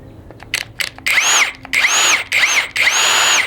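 An electric impact wrench, a newer and stronger model than the older 120-volt plug-in types, fires in short bursts and then in longer steady whirring runs, loud and close.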